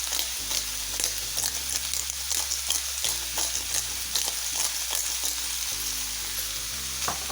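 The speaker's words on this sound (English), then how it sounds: "Give it another nice stir, and then you're just gonna let it cook down for about 5 to 8 minutes" Veggie fajita vegetables seasoned with salt and black pepper sizzle loudly in a hot pan, with a constant frying hiss broken by repeated scrapes and clacks as they are stirred, and a low hum underneath.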